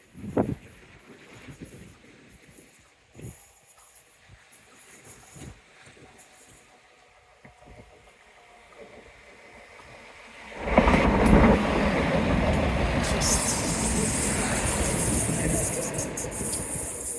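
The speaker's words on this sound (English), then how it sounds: "First train of the day." A train rumbles past close by at Teignmouth, a loud broadband roar swelling suddenly and holding steady, after a quieter stretch of wind and distant surf.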